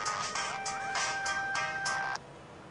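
A mobile phone rings with a repeating electronic melody in bursts, clear and close, then stops abruptly, leaving quiet room tone.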